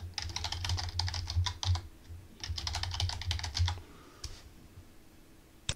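Computer keyboard typing in two quick rapid runs of soft close clicks, followed by a few isolated keystrokes, over a low steady hum.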